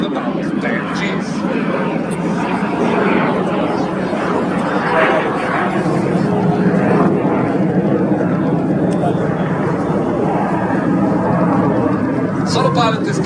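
Frecce Tricolori display team jets flying at an air show, a loud sustained roar that swells and fades as the aircraft pass, with crowd chatter underneath.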